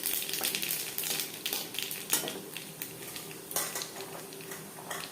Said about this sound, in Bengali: সর্ষার তেল গরম করে নিয়েছি দিয়ে দেবো দুটো শুকনো লঙ্কা লঙ্কা ভেজে নেওয়ার পর দিয়ে দেবো কালো জিরে